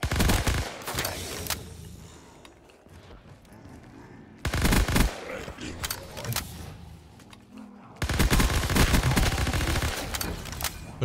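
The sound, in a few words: Tommy gun firing in a Call of Duty Zombies mod video game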